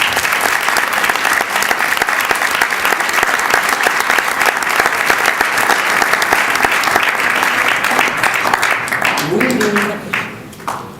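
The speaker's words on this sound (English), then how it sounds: "So give yourselves a round of applause." Guests at a 2009 professional society banquet in New York break into loud, sustained applause that fills the room and then thins out and fades over the last second or two.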